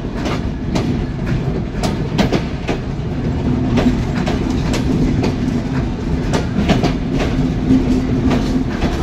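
A train passes close by in Bangladesh, its wheels beating a steady clickety-clack over the rail joints with a continuous loud rumble that holds for the whole stretch, with no talk over it.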